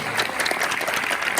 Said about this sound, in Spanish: que también merece un aplauso, naturalmente.